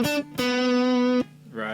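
Short electric guitar lick ending on a long held note with steady harmonics, clean to slightly driven tone, close and alone before a new phrase begins.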